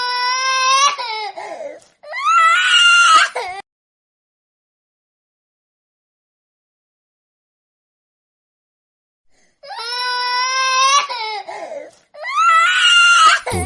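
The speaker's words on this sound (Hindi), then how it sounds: "बच्चे के रोने की आवाज आने लगी।" A baby cries in two anguished bouts, then falls silent for several seconds before two more loud wailing bursts, set in a horror story in an Indian village where the crying comes from a neighbour's house.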